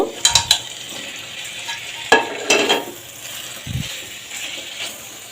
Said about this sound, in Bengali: আমি ভেজিটেবলগুলো কষিয়ে নিচ্ছি ভালো করে